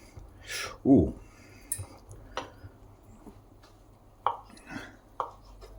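A knife chops soft, hot cooked pork rind into bite-sized pieces on a board for a bean dish, a few scattered thuds and clicks.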